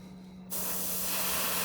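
An airbrush spraying paint onto a fishing lure starts with a sudden, close hiss and holds as a steady, even airy rush.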